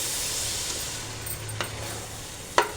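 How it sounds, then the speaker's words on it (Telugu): A ladle stirs rice through jackfruit biryani masala in a cooking pot, giving a soft scraping and gentle sizzle over a steady low hiss, with a sharp clink of the ladle against the pot near the end. "ఇదంతా ఒకసారి మెల్లిగా గరిటె పెట్టి కలిపేసుకోవాలి మనం"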